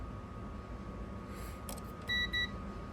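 Two short electronic beeps from a multimeter on continuity test while checking a Maytag microwave door switch, close and clear over a steady background hum.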